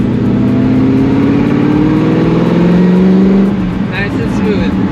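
A Ford GT40 race car engine idles and runs at low RPM, loud and close, with a steady droning hum that rises slightly before easing off, heard alone without talk.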